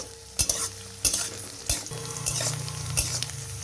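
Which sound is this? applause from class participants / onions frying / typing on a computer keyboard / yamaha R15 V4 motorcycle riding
onions frying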